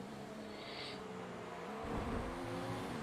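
Race car engines in F1 2019 hum steadily, then a louder surge swells past near the two-second mark as a rival driver overtakes, with no talking over it.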